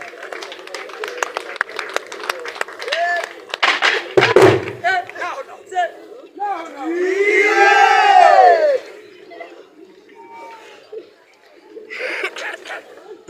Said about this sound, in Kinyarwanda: Amashyi menshi kuri Plan rero.